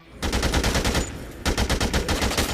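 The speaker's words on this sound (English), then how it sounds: "Freedom Bear can be set on the ground and left to act as a sentry, gunning down any zombies that cross its field of view" Rapid bursts of light machine gun fire from a sentry teddy bear turret in the Dead Rising video game, two loud sustained volleys of closely spaced shots separated by a brief pause.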